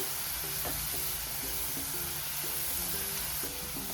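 Garlic frying steadily in a pan for an onion-garlic masala, a dense continuous sizzle with light stirring, no voices.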